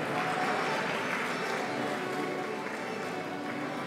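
Audience applause for the Grupo Danças e Cantares de Perre folk singing group at a Janeiras gathering in Abelheira, Portugal: dense, steady clapping from a crowd that stays loud and even throughout.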